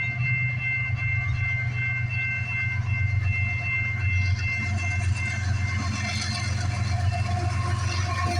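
A BNSF eastbound freight train passes close by at a rail crossing, a steady low rumble of rolling cars with high squealing wheel tones throughout, loud and continuous.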